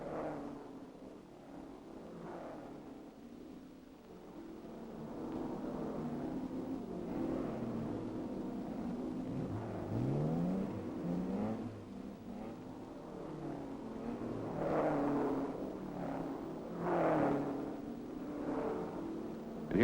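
1964 sports cars racing in a European Grand Prix, with engines droning and revving as cars pass at a distance, rising and falling in waves over a steady background.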